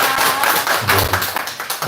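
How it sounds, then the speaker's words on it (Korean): Congregation applauding at a church gathering, a dense burst of many hands clapping close by, steady and fairly loud for a couple of seconds. "한번 박수 좀 드립니다."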